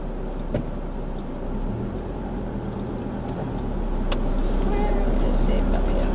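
Road traffic in a jammed street in the outback town of Winton, Queensland: a steady low rumble of engines and passing vehicles that swells toward the end, with a couple of brief sharp knocks.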